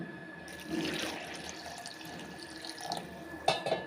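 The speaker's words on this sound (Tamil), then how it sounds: "இப்போ வந்து தண்ணி சேர்த்துக்கிறேன்" Water for carrot and coconut juice runs steadily, pouring in a continuous splashing stream close by, with a few brief clinks near the end.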